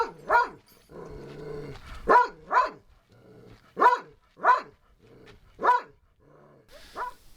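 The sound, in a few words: dog barking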